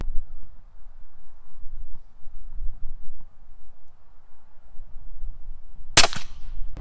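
A suppressed Barrett M107 rifle fires a single subsonic round outdoors, a sharp, short crack late in the clip after several seconds of quiet wind rumble.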